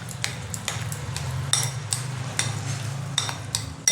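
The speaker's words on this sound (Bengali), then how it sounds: "এটা আমি ভালো করে মিশিয়ে নেব।" A spoon stirs chhana mixed with raisins, cashews and almonds in a bowl, giving repeated light clinks and scrapes of metal at an uneven rhythm over a faint low hum.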